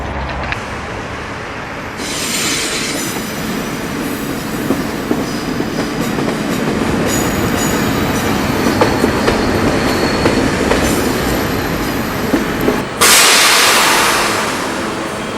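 A train runs along railway tracks, a steady rolling rumble with rhythmic clickety-clack and rail squeal, building and holding loud throughout with a brighter hiss surge near the end; no talk.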